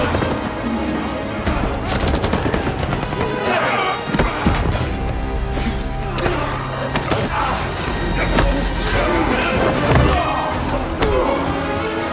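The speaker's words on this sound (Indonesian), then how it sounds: "Venegas dan Clear pergi ke taman lalu menyaksikan tentaranya baku tembak dengan pasukan Cohors" Gunfire crackles through a film firefight as dense, rapid bursts of shots and thuds, loud and continuous within a busy action soundtrack, with voices mixed in.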